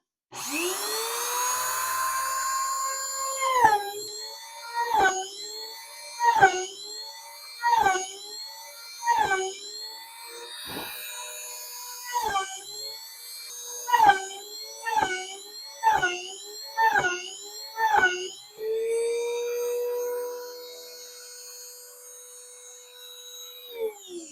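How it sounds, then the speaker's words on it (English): A high-pitched power drill whirs repeatedly in short bursts, boring holes in leather for a cast iron skillet cover, spinning up and cutting off over a dozen times, close and loud with no talking. "here we are fixing to drill holes on this thing"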